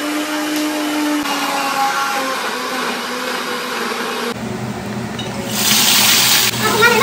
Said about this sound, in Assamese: এতিয়া মিক্সিত মাৰি দিয়াটো বেছি দেৰি নালাগে